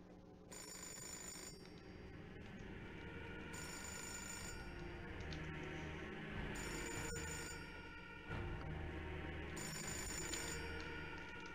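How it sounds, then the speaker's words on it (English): In the Fahrenheit: Indigo Prophecy Remastered video game, a telephone rings in repeated bright electronic bursts with short gaps between them, clear and fairly close, with no one speaking. "I just need to answer the telephone"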